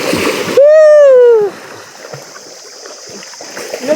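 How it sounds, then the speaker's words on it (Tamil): A splash into deep water at Karagoor granite quarry, followed by a loud sustained yell that rises and falls, then softer lapping and sloshing of the water. "சரி குதித்தாங்க."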